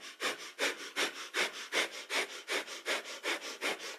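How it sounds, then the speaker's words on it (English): Rapid, rhythmic breath of fire during a kundalini yoga kriya: about a dozen sharp, forceful nasal exhalations in steady pulses, close and clear with no talking. "And it's a breath of fire here."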